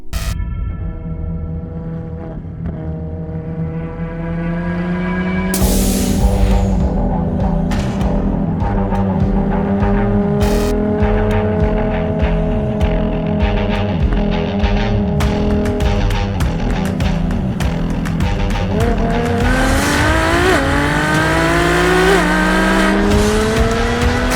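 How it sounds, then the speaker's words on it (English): Three Ferrari LaFerraris roar past on a highway with loud, rising engine revs and gear changes, a continuous powerful drone of high-speed driving. "here's a quick clip for you guys showing the 3 cars going up the highway"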